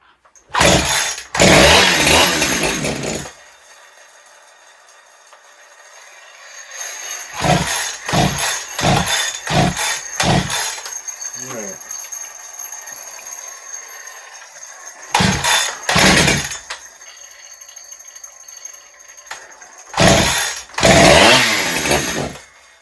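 A Holtzforma 372XP chainsaw with a poor idle fires in several loud bursts of engine roar, separated by short gaps and quieter stretches of sputtering as it struggles to keep running.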